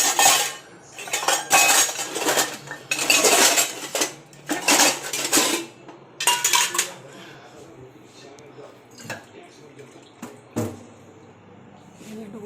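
Metal pots, bowls and a washed lamp stand clatter and clank in loud bursts as they are handled and set down at home. The knocks grow sparser and quieter toward the end, with some speech in the background.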